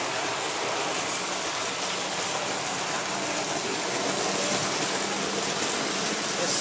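A model railway Intercity train runs along the track with a steady, continuous rushing and rumbling that stays fairly loud from start to finish, without a voice.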